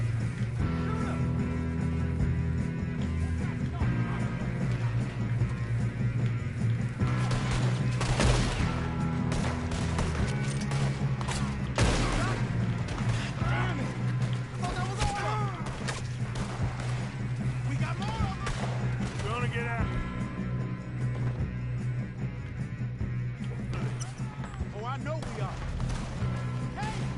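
Gunfire in Red Dead Redemption 2, with repeated shots cracking through a busy mix of game sound and music while voices talk over it.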